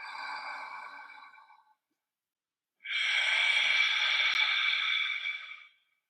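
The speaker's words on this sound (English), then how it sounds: "One more deep breathing." Deep breaths during a vinyasa yoga practice: a long airy exhale fading out, a brief silent pause, then a louder, fuller breath of about three seconds, close to the microphone with no talking.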